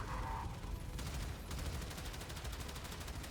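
Rapid gunfire in the sci-fi shooter Warframe, a steady dense stream of shots running continuously under a loud in-game mix, sharpening into tighter repeated bursts partway through.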